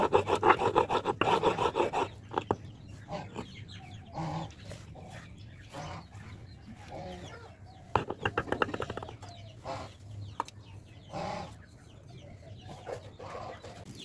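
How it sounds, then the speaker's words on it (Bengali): Whole raw cumin, onion, garlic and ginger are ground on a flat grinding stone, with gritty rasping strokes in uneven bursts, strongest at the start, while chickens cluck faintly in the background. "এখন এই সবগুলোকে পাটায় মিহি করে বেটে নিব"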